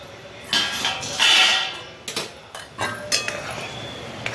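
A cooking pot's lid is lifted off a pot of fasting-style sheera that has been simmering on low gas. A few close metallic clanks and clinks of cookware ring out over a quiet room, with no talk.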